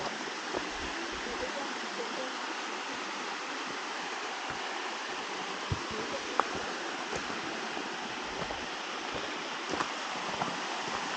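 A waterfall at Autoire pours steadily, a dense, even rush of falling water that holds constant throughout at moderate distance, with no other sounds standing out.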